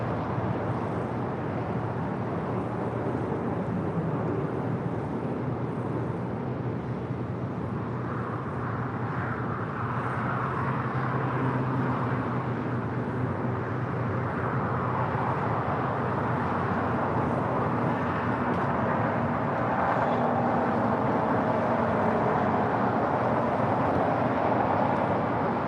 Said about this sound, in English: It's the Avianca A330 coming in from San Salvador, flight 522.